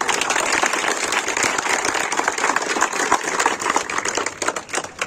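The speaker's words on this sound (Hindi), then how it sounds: "इनके लिए जोरदार तालियां" A room full of people claps loudly and steadily for successful police sub-inspector candidates in Bihar, a dense, even ovation that keeps going without a break.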